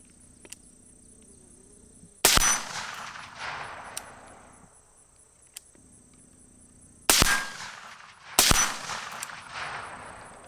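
Three sharp rifle shots ring out outdoors at a target through a UUQ Aspire ED 1-6x24 LPVO scope, each a loud crack with a decaying tail, spaced irregularly, while insects chirp faintly in between.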